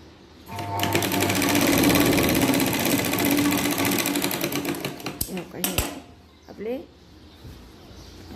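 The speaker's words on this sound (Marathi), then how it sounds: "तिन्ही कपडे एकावर एक धरून शिलाई मारून घ्यायची" A sewing machine runs in a fast, continuous clatter while stitching layered fabric for a lined katori blouse, then stops and gives a few short bursts near the end; a voice talks over it.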